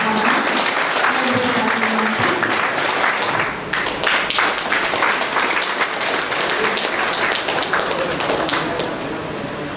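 An audience at a public honouring ceremony gives sustained, dense applause for children recognised for good SSLC exam marks, loud and continuous, fading slightly toward the end.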